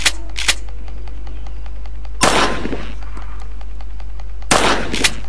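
Rapid bursts of gunfire crack out in two loud volleys in the video game Granny: Chapter Two, with a steady low hum and faint ticking in between.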